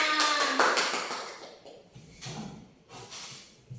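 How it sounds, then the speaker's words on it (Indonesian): Classroom hand clapping during a primary school civics lesson, a few sharp bursts of claps from a small group of pupils, the loudest at the start, then fading into shorter scattered rounds. "tepuk tangan untuk kita semua"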